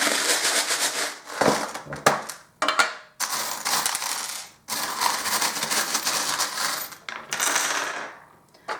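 Metal charms tumble and clatter like a handful of dropped coins, coming in close, dense bursts of jingling with short gaps between them and no talking.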